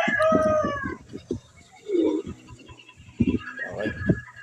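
A rooster crowing near the start, a loud drawn-out call, followed by quieter scattered sounds and voices talking in the background.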